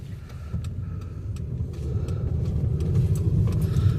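The engine of a 2005 Chevy Impala runs rough with a misfire, producing an uneven, stumbling low rumble with small periodic ticks, growing slightly louder toward the end and heard up close without speech.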